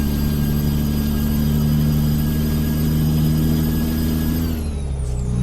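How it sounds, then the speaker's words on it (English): A heavy Volvo VNL 670 truck engine in American Truck Simulator drones at a steady, deep rumble with whining tones, then the pitch drops as it winds down near the end. "It sounds pretty beefy for a little Volvo VNL 670."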